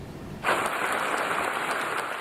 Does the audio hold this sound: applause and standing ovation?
yes